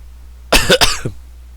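A person gives a single sharp cough burst of two quick hacks with a small throat-clearing tail, close and loud against a quiet background.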